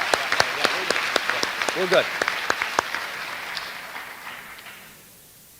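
A school homecoming audience claps for a candidate: a burst of sharp, crisp claps with a brief whoop in the middle, tapering off over several seconds, while someone speaks briefly.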